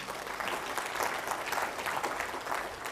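A church congregation claps hands in praise, a dense, even burst of many hands sounding together at moderate distance for a few seconds.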